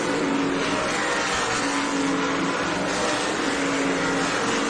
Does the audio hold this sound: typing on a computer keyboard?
no